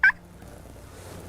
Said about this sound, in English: another bird started gobbling from our right